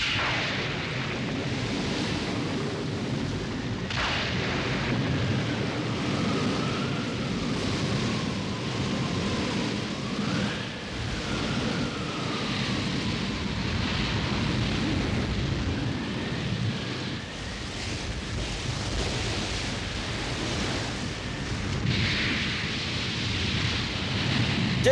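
Animated stormy sea scene with heavy rain and rumbling thunder, a dense continuous roar of wind, rain and surging water, loud and steady throughout with swelling booms.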